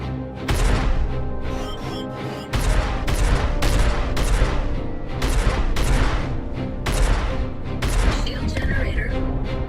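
Rapid bursts of ship-mounted gunfire from a Starfarer in the Star Citizen space game, loud and sustained, with repeated volleys and booms across the whole stretch.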